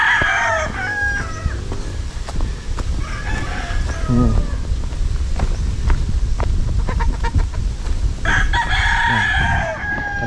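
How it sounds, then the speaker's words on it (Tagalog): Several roosters crow repeatedly at a chicken farm in Calaca, with overlapping cock-a-doodle-doo calls near and farther off over steady clucking and farmyard background, and no one talking. "Dito na tayo sa manukan ni Ken Nelson."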